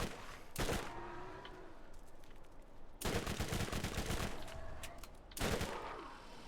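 A Masher pistol, a revolver-style shotgun handgun in Borderlands, fires three loud, sharp blasts spaced about two and a half seconds apart, each trailing off in a rumbling tail.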